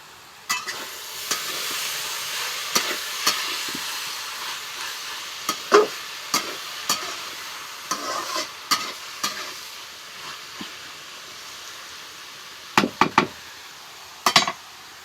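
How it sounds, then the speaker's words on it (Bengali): Bottle gourd (lau) fry hisses steadily in a pan while a spatula stirs it, sending sharp scrapes and knocks against the metal at irregular intervals, with a quick cluster of strokes near the end. "এখন এখন ঢাকনাটা উঠায়া ভাজিটা নাড়া দেব"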